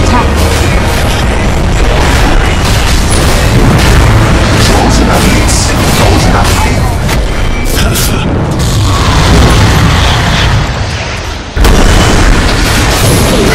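Dota 2 match audio with a dense, continuous wash of booming combat impacts and explosions as a tower comes under attack, loud throughout with a brief dip near the end and an announcer voice over the game noise.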